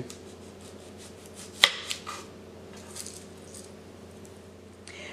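A knife slices the stem and root end off a garden-grown yellow onion, one sharp crisp cut followed by a couple of smaller cuts and light handling noises, close and fairly quiet.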